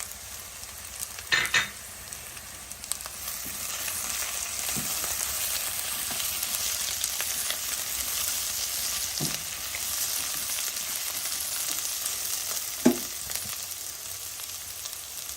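Onions browning in hot oil in a pan with cinnamon, cardamom and cloves: a continuous, fairly loud sizzle fills the whole stretch, with a few brief scrapes or clinks of a utensil, and no speech.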